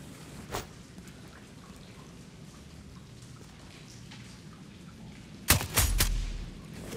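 Gunshots from a sniper rifle in Sniper Ghost Warrior Contracts 2: one sharp shot early on, then a loud cluster of two or three heavy blasts near the end, over a quiet rain-like background hiss.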